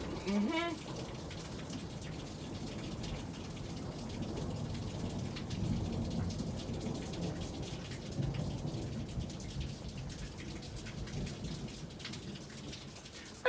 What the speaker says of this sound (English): Oh God, that was thunder.